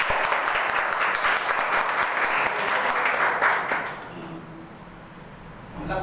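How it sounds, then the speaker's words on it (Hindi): An audience breaks into loud applause at an IMC business seminar, a dense sustained clapping that fades out after about four seconds. "मैं चाहूँगा कि एक बार उनके लिए जोरदार तालियां बजाएं"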